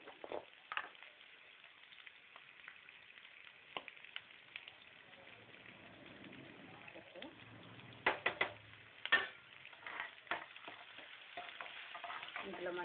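A tempering frying in a pan, with a faint steady sizzle and a scatter of sharp crackles and spoon taps, a few louder pops near the end, all quiet and close.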